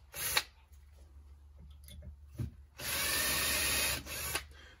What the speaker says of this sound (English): So I've drilled through a little bit